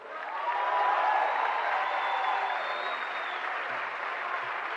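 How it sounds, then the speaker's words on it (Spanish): An audience at a Ibero-American culture congress breaks into sustained applause, a dense, even wash of clapping that swells in and holds steady throughout, with a few faint murmurs underneath. "no tienen que aplaudir"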